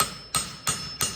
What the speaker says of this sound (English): this hammer that I'm using